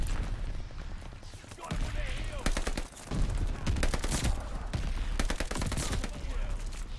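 STG rifle gunfire in the Call of Duty Vanguard shooter, with repeated bursts of automatic shots spread across the clip, loud and close, mixed with other battle noise and some talk.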